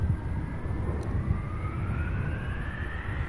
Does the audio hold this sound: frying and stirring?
no